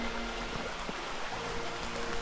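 Light rain falls in a forest, a soft, steady hiss of scattered drops on leaves and surfaces, faint and continuous with no talking.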